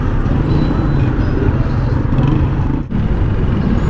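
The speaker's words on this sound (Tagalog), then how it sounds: "Ayan, grabe yung traffic dito." Congested road traffic near a checkpoint, a continuous dense rumble of engines and passing vehicles, loud and steady with a brief dip near the end.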